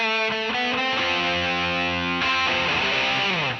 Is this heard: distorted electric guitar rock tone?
yes